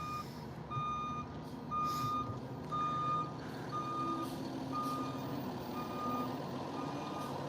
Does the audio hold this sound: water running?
no